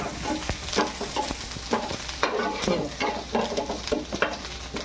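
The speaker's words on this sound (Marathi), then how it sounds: "गॅस फास्ट आहे ना लसूण अद्रक जरासा लालसर होऊन द्यायचा" Garlic and ginger sizzle in hot oil over a high flame in a home kitchen, a steady close crackle broken by scraping stirs of a spoon against the pan.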